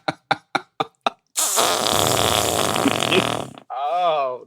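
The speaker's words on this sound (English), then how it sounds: "I'm the first one to fart on the track." A fart follows several sharp knocks, a long loud buzzing blast lasting about two seconds, close to the microphone, then a brief voice; recorded during a podcast studio chat.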